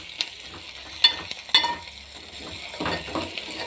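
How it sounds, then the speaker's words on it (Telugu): Onions, mustard seeds and cumin fry in hot oil with a soft, continuous sizzle, broken by a few sharp spoon-and-pan scrapes as the mixture is stirred. "ఆవాలు, జీలకర్ర, ఉల్లిగడ్డ మంచిగా పచ్చి అవి మంచిగా బ్రౌన్ కలర్ వచ్చేటట్టుగా వేయించాలి."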